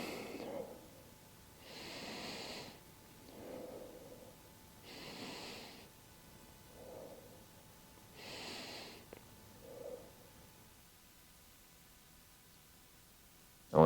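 Slow, deep breaths taken during a golf-focused stretching workout, about four long inhale-exhale cycles spaced a couple of seconds apart, soft and close, with no talking over them.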